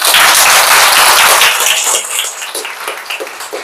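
Applause from the audience at the closing ceremony of a spiritual yoga camp in Mysuru, dense clapping that fills the first couple of seconds and then thins into scattered, fading claps.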